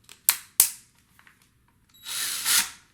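Two sharp clicks from a power drill's chuck, then a short whirring burst as the drill tightens a bit onto a flexible dryer vent cleaning rod, close up in a quiet room.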